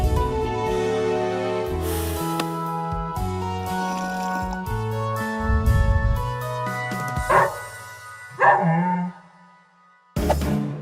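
A few dog barks and yips stand out over playful music, with a short pause before the music returns at the end.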